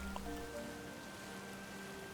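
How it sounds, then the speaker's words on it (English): Rain falls in the Pokemon Violet video game as a steady, even hiss, with faint tonal game sounds mixed in underneath. "The rain might cause a bit of an issue."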